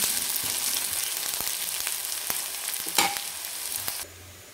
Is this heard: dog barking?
no